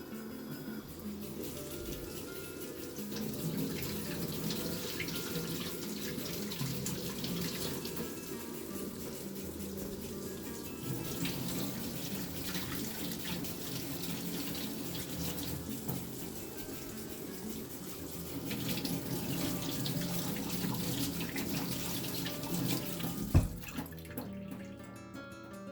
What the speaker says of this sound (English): Don't ever forget to wash your vegetables.